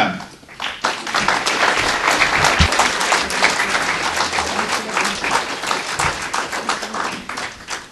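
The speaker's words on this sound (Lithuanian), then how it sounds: "Aplodismentai netyla" Sustained applause from a conference audience at the closing session of the EDEN 2011 project, dense and steady clapping filling the room for the full stretch, fairly loud with no speech over it.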